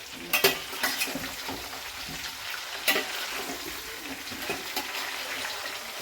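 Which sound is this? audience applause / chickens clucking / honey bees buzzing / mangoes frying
mangoes frying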